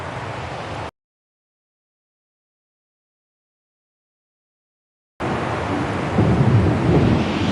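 A thunderstorm from Syberia: The World Before rumbles loud and dense with rain, cutting to a few seconds of dead silence before the heavy roar of thunder and downpour returns.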